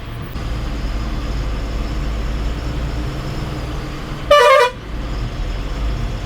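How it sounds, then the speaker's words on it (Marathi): A single short blast of a bus horn on a village road, loud and close, sounding over the steady rumble of the moving bus engine. "हॉर्न बारी आहे रे गाडीचा."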